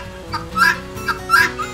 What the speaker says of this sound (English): Those guinea hens are crazy.